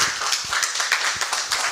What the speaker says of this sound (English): A better round of applause for Dr. Albert Intribusiakon for that very detailed presentation